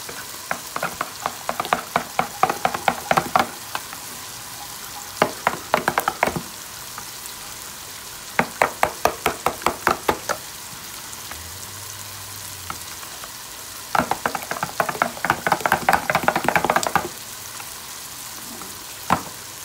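Chicken sizzles in a pan with fried garlic-ginger paste, bursts of rapid stirring and scraping clatter repeating over a steady frying hiss.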